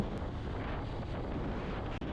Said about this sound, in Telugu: ప్రెజెంట్ అయితే సముద్రపు గాలి చాలా ఎక్కువ తోలుతుంది